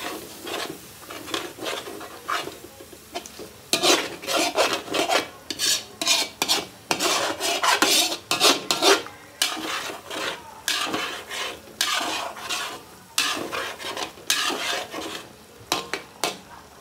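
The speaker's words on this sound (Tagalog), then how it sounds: "Pwede haluin natin yung ilalim, yung mga nanunoong ano sa ilalim" A spoon scraping and stirring the bottom of a cooking pot in quick rhythmic rasping strokes, loud and close, over a low bubbling sizzle.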